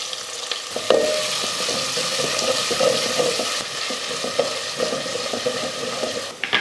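One onion with half a spoon of cumin sizzling and frying in a pan, a steady close crackle interrupted by clinks and scraping strokes of stirring.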